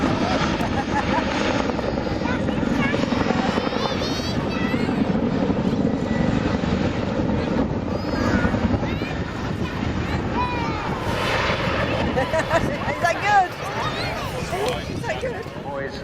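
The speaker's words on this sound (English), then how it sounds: "the Chinook changes the lift between its forward and aft rotors to manoeuvre" A Chinook tandem-rotor helicopter flies display manoeuvres at the Southport Air Show, its loud rotor thrum and engine roar carrying steadily over wind noise throughout.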